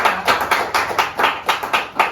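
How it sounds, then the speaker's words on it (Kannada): Rhythmic hand clapping at a steady tempo, about nine crisp claps in two seconds, fairly loud and close, with no talk over it, closing an interview for a Kannada film. "ಈ ಚಪ್ಪಾಳೆ ನಿಮ್ಮೆಲ್ಲರಿಗೋಸ್ಕರ"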